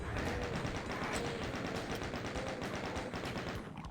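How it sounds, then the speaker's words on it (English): Chaingunner enemies firing in the video game Doom 2, a dense continuous rattle of rapid shots lasting the whole stretch, steady and fairly loud with no talk. "I get the feeling I'm gonna die in this room because of all the chain gunners again."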